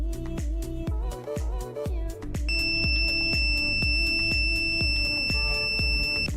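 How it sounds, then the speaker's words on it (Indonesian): A digital multimeter in continuity mode beeps with a steady, high, continuous buzzer tone once its test leads touch both ends of a fuse. The tone sits over loud, rhythmic background music with a pounding beat. "Apabila muncul suara buzzer,"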